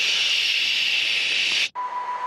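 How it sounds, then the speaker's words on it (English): Steady white-noise hiss recorded from a dead cell, loud and even, then cut off abruptly near the end and followed by a faint, thin tone. "if you look at a dead cell, for instance, you will effectively hear something like a white noise"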